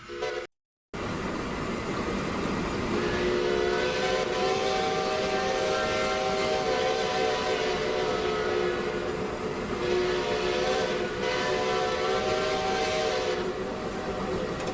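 A steam train in the Centuries of Steam video game chugs along steadily as its whistle blows in long, loud, sustained tones, fading briefly before sounding again over the running engine.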